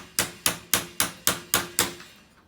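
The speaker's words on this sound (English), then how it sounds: "Put this on. Hammer it in." Six sharp hammer taps drive a part into place on a Westclox Baby Ben Style 8 clock during reassembly, evenly spaced, close and loud, each ringing briefly before the next.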